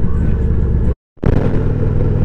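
A motorcycle rumbles loudly on the road during a trip, its engine and wind noise cutting out briefly to silence midway before resuming at full level.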